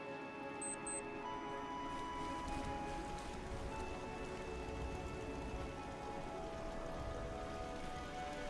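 Steady rain from the video game Fallout 4 patters continuously over a low ambient hum, with faint tonal game sounds and a few soft ticks layered in, no voices.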